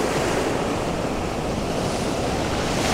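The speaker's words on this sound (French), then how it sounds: "le vent se relève un peu, les vagues aussi" Seaside waves break continuously on the shore during a fishing outing between storms, with gusty wind buffeting the microphone in a steady, loud, full roar with no voices.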